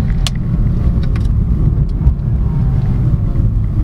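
A 2024 BMW 318i Business sedan accelerates hard, its engine a steady loud drone close to the microphone with a few brief clicks and bumps over the top.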